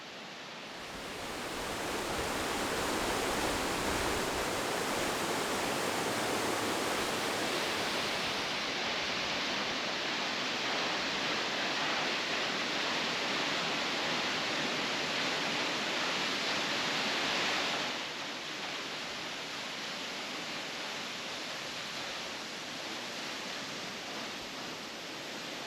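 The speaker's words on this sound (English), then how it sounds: "There are many waterfalls on the islands, but this is certainly one of the more impressive." Waterfall on the Faroe Islands, a loud, unbroken broadband roar of falling water that steadies and eases slightly partway through, with no voices.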